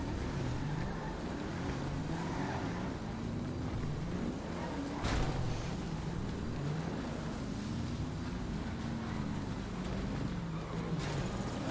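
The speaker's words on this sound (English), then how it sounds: "Driving through bushes at the moment, just a check." Car pushing through roadside bushes in GTA V, a steady engine drone with wavering pitch running throughout at close range, plus a brief rustling crash near the middle.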